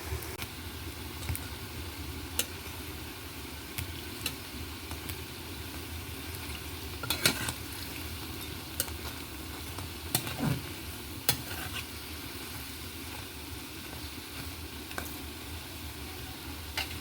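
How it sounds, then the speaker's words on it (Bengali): Jackfruit pakoras frying in hot oil in a home kitchen: a continuous close sizzle with scattered sharp pops and spatters over about seventeen seconds, no talking. "এখন আমি ভেজে নিচ্ছি। তেল গরম হয়ে গেছে,"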